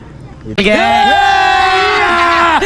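A large crowd at an outdoor stage show at a local bazaar breaks into loud, sustained cheering and whooping after a brief moment of quieter murmur, many voices close together.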